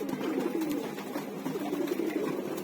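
Caged pigeons in the middle of their moult keep up a dense, steady low cooing, with soft rustles and clicks mixed in. The sound is close and even throughout, with no speech.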